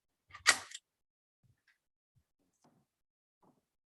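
A medium format 3D stereo camera's shutter is cocked and fired: one sharp, loud mechanical snap near the start, followed by a few faint small clicks and handling ticks in otherwise silent surroundings.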